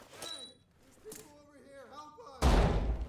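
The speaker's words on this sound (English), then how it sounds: "which that was a stinger" A stinger grenade detonates in the tactical shooter Ready or Not, a sudden loud, deep burst that lands late in the clip after a stretch of voice and fills the rest with a rumbling roar.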